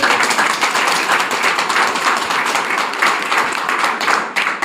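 Loud, dense applause from an audience at a village storytelling gathering, steady and continuous throughout with no talk over it.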